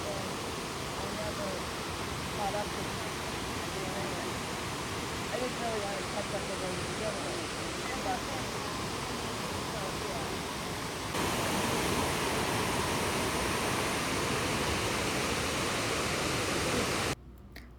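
Falling water at the upper and middle falls of Watkins Glen State Park: a continuous broad roar of cascading water, steady and enveloping, growing slightly louder partway through.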